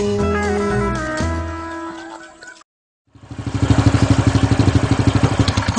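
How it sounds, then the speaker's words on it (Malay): A motorcycle engine starting after a brief music passage and a moment of silence, then a close, loud, rhythmic chugging that pulses steadily as it idles. "Mari kita naik motor"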